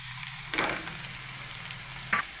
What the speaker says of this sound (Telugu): నూడిల్స్ వేస్తున్నాను ఇందులో